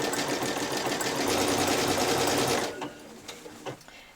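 A sewing machine runs an overcasting stitch along the seams of a child's dress, its needle whirring in a steady, loud, fast rhythm for over two seconds. It then stops abruptly, leaving a few faint clicks and handling noises.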